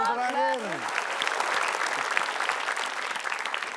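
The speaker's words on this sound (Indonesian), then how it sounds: "Oke, yang terakhir tepuk tangan." Studio audience applause from a TV quiz game show, steady clapping throughout with a brief voice at the start before the crowd takes over.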